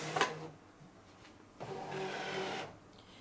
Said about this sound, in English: I'm going to put the mat in and snug it up against this corner and hit the load button up here.